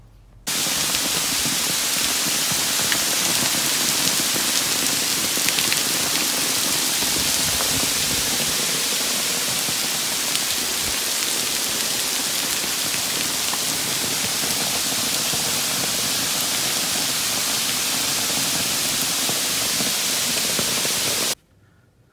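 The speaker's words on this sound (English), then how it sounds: "it's dark out now and it's raining" Steady rain falls at night onto a carport roof, a dense, loud, unbroken hiss lasting about twenty seconds before cutting off abruptly, with no voices.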